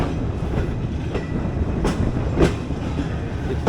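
A train shunts on railway tracks, with a steady rumble of rail cars and a few sharp clanks and clicks from the wheels and couplings, close and fairly loud.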